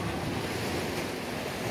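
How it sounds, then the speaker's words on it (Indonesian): Ocean waves wash steadily onto a beach at a tourist fishing spot, a continuous soft roar of surf mixed with light wind, distant and moderately quiet with no talking. "Tapi kalau kondisi ombak sedang besar ya, ombaknya kadang sampai ke arah sini."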